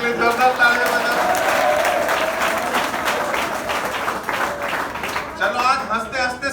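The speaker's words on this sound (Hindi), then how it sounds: "सर के लिए जोरदार तालियां बजाओ।" College audience applauding at a freshers' comedy show, a sustained dense wash of clapping that stays loud throughout, with voices mixed into the crowd noise.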